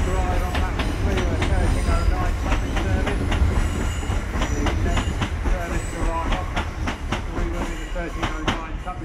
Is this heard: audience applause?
no